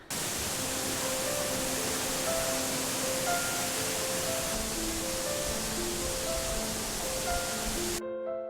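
Qinglong waterfall at Jinggangshan, one of five falls with a 67-metre drop and over 20 metres wide, roars as a steady broadband rush of falling water, constant and close, with faint tonal sounds drifting over it.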